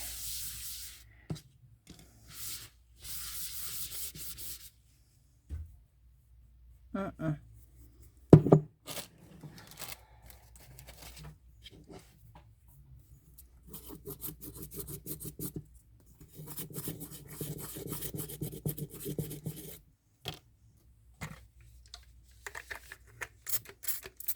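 Sandpaper rubbing over painted terra cotta, producing uneven scratchy rasping strokes in short bursts with pauses, fairly faint and close.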